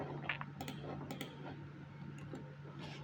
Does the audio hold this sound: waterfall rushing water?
no